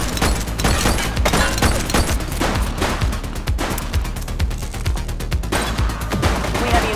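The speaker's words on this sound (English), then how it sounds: "Shots fired!" Gunfire in The Precinct police video game: dense, loud bursts of rapid shots, close and overlapping, continuing without pause.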